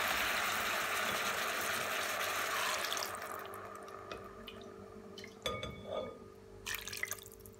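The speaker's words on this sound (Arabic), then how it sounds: "بعد ما قليت الملوخية حوالي ربع ساعة، هلا بحط فوقها مرقة الفروج." Chicken broth poured over fried molokhia in a cooking pot gives a broad liquid rush that fades after about three seconds, followed by a few scattered drips and light clinks.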